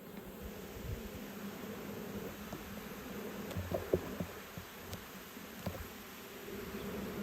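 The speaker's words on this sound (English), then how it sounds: "It's a big swarm" A large honeybee swarm hums steadily close by, a dense continuous drone of many wings with small fluctuations, heard alone without voices.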